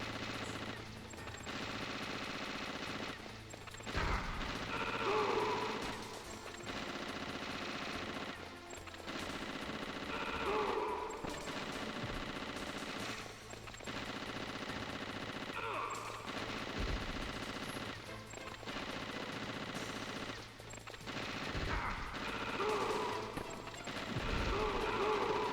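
Rapid gunfire while running in the Metal Gear Solid PC game, repeated bursts of shots in rhythmic bands across the whole stretch, fairly quiet and mixed with game sounds, with a voice talking at times.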